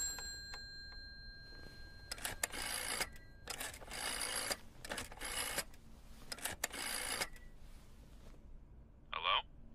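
In the horror game Layers of Fear, a phone call rings with several separate electronic bursts in a spaced rhythm over quiet room tone, then a brief higher chime comes at the end.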